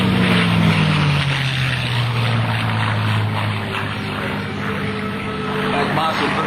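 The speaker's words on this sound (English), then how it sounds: "That monster 13-foot down propeller in front of that P-51 Mustang." A P-51D Mustang warbird with a huge 13-foot propeller drones past at an airshow, its loud, steady engine roar falling in pitch as it passes and fading slightly, with an announcer talking over it.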